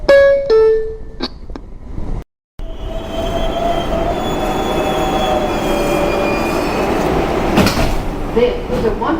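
A New York City subway 6 train idles at a platform with a steady low rumble and hiss, a brief chime at the start, and a faint squeal near the end.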